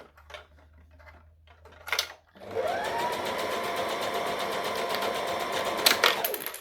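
A sewing machine stitches costume fabric back and forth in a fast, continuous mechanical rattle that runs for several seconds after a few clicks and handling noises, close and clear.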